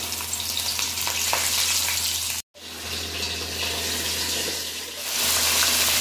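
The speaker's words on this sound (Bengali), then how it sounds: "তেলও খুব ভালো করে গরম হয়ে গেছে। এখন এক একটা করে মাছ দিয়ে দেবো।" Aila fish pieces fry in very hot oil in a wok, producing a loud, dense, steady sizzle with a brief cut of silence midway before the crackle resumes just as strongly.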